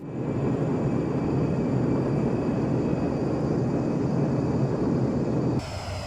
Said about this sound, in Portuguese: o avião do nada entra em um super mergulho acentuado